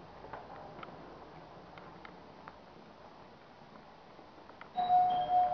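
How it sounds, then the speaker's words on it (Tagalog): A doorbell rings briefly near the end of a quiet room recording in a home, a short two-tone chime following faint ticking background noise. "May nagda-doorbell."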